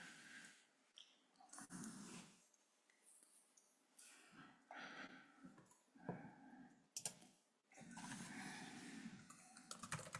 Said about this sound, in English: So I'm typing it.